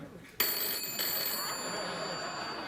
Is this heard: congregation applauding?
no